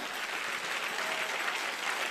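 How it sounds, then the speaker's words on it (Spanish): A church congregation claps for the Lord in a steady wash of applause, distant and fairly soft, lasting the whole moment without pause. "Dele fuerte el aplauso al Señor por esa fuente."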